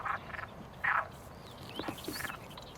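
Frogs croak in a short series of bursts on a Portuguese birding site at Cabranosa, Sagres, several calls close together and moderately loud, with one standing out above the rest.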